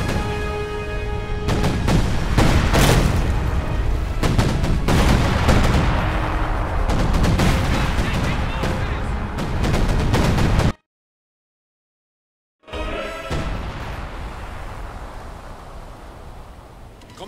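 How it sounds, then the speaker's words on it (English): Artillery gun barrage in Company of Heroes 2: a sustained roar of heavy booming shots and impacts for about ten seconds, a brief total silence, then the battle din resumes more faintly. "Ready that gun barrage."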